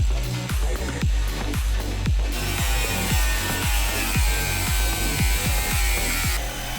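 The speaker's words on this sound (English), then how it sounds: "use a jigsaw with a metal blade on the curves" A jigsaw fitted with a metal-cutting blade cuts curves in a van's metal wall, a loud, close, harsh buzzing rasp with rhythmic chattering strokes that runs throughout.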